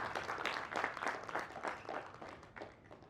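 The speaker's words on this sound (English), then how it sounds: "I guess round of applause for Vijayendra sir." Audience clapping at a business conference at IIT, a steady, moderately loud wash of applause that holds through the whole moment with a slight swell in the middle.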